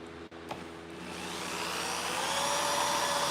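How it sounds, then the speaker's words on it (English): Power drill boring a hole in medieval leg armour, a rising whine that spins up after a brief click and holds steady and close for a few seconds. "And try to drill this hole"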